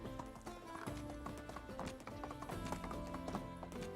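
Horse hooves clip-clopping in the medieval village game Medieval Dynasty: a quick, steady stream of hoof taps at a trot, fairly quiet, with ambient game sounds underneath.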